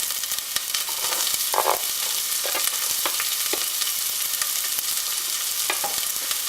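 Garlic and anise sizzle steadily in a hot pan, a close, continuous frying hiss with occasional stirring clicks and pops and no talking.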